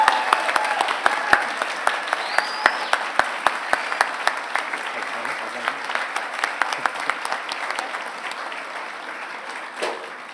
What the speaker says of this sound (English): I think we should give another round of applause for all the amazing.